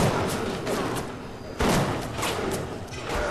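Gunfire in BioShock: a run of sharp, near shots and thuds, with a heavy burst about halfway through, set among game noise while someone talks and reacts.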